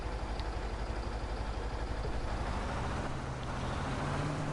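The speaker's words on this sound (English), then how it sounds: "This truck is a little loud normally." A truck engine in Farming Simulator 19 drones with a steady, loud, low rumble throughout, with no talking.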